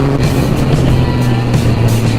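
2019 Yamaha MT-09 motorcycle with an Akrapovic exhaust running loud and close, a thick steady engine drone with strong low tones and small surges in pitch, no talk.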